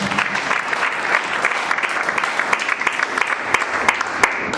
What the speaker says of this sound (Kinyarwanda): Reka twongere ijambo ry'Imana amashyi menshi y'inzara